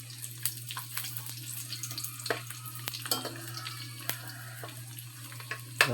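Squid frying in cooking oil in a pan, a steady soft sizzle under frequent light clinks and stirring scrapes, close by and fairly quiet with no talking.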